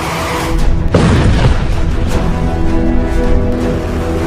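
Bunker buster bomb blast: a loud low boom bursts in about a second in, followed by a sustained rumbling roar that stays heavy to the end, with no voices.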